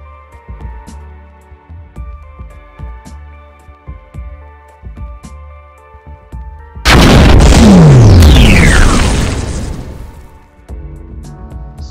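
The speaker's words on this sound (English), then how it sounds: "The Rocket Hog is capable of firing 6 65 mm rockets." A Halo 4 Rocket Hog Warthog fires its 65 mm rockets in a sudden loud roaring barrage with a descending whoosh, breaking in after rhythmic music-like thumps and fading over several seconds.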